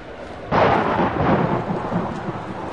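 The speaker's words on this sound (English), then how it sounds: "Thunderstorm getting louder." A deep roll of thunder rumbles in suddenly and lingers over steady rain in the video game Outlast, loud and close, with no voices.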